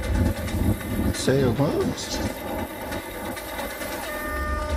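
A train rumbles and clatters steadily in the video game Watch Dogs: Legion, a horn-like tone sounding briefly, while someone talks over the rail noise.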